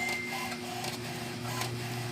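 An HP Ink Tank 315 printer runs a calibration print, giving a steady mechanical whir and hum with faint tonal drones and small shifts in pitch, continuous and close throughout.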